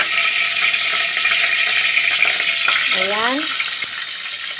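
Garlic sautéing in a pan, a loud steady sizzle and hiss from close by that fades slightly near the end, with a brief spoken word heard over it.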